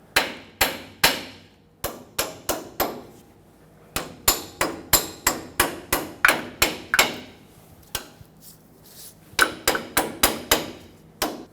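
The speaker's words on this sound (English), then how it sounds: "Tap it with a hammer if needed," Sharp, close metallic hammer taps on a tie rod clamp of a 2000-2005 Ford Excursion, struck in quick irregular bursts of several blows with short pauses between groups.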